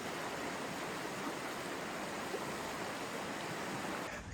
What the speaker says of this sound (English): you do get this shoreline access to the beautiful East Fork Hood River